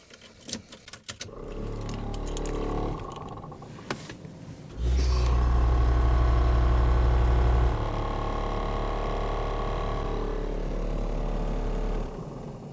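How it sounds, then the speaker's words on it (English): A brake booster vacuum pump on a GMC motorhome gives a mechanical rattle with a low steady hum, kicking on loudly for a few seconds, then settling to a lower running drone before shutting off. "It's really loud and rattly with where that vacuum pump is mounted right now."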